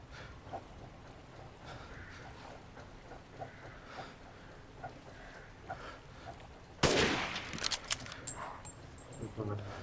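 Sniper gunfire in the Resident Evil Village video game: a single sharp, loud shot bursts out partway through after quieter game ambience, followed by scattered clattering effects, with a voice talking at times.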